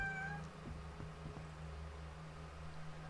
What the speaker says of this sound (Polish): No i mój kot oczywiście w tle.